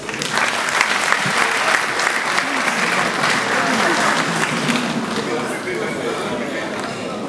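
A crowd at a tribute event applauds the introduction of Félix Oazekwa, strong sustained clapping mixed with chatter and voices that gradually eases off toward the end.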